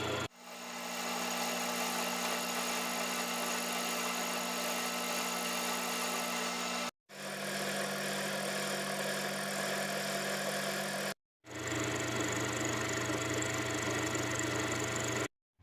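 A milling cutter 5 millimetres wide cuts an oblong slot in a metal machine part, giving a steady droning machine whine with a low hum, running in three long stretches broken by brief stops.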